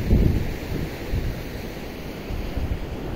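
Floodwater rushing down toward the Gargalheiras reservoir in Acari, Rio Grande do Norte, a steady broadband roar with wind buffeting the microphone, continuous and fairly loud throughout.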